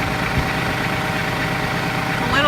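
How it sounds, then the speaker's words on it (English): A tractor engine runs at a steady idle on a farm where goat fencing is going up, a loud constant rumble with a faint brief squeak near the end. "Got the tractor going"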